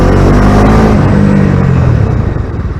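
A Bajaj Dominar 250 motorcycle accelerates hard in second gear to overtake a car, its engine a loud, close, rising drone with heavy wind rush throughout.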